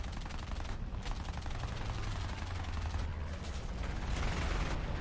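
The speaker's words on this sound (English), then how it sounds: "I get a couple more shots off on him." An Italian C.200 fighter's machine guns fire in bursts of rapid rattling shots during an aerial dogfight in a video game. Several bursts break through a constant engine drone, close and loud.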